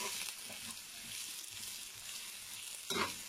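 Breaded pollock fries in a pan with a steady soft sizzle and hiss, fairly quiet and continuous, with a brief louder crackle near the end and no talk.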